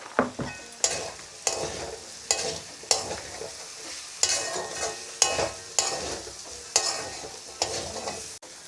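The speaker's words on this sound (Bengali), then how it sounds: "এখন আরও কিছুক্ষণ ভেজে নেব।" Potatoes for alur chop frying in a pan, a spoon stirring and scraping in a steady rhythm of sharp strokes roughly every half second over a soft sizzle.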